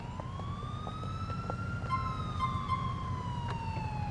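An ambulance siren in the police game GTA LCPDFR wails in a slow rising and falling sweep over a low rumble of traffic, fairly faint and steady, with no voices.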